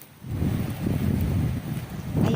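Strong wind gusts through tree branches on a farm field, a steady low rushing roar with surging buffets and microphone wind noise, loud and close, with no voices.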